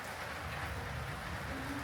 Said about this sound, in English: Thunder's died down a bit. Rain is subsiding.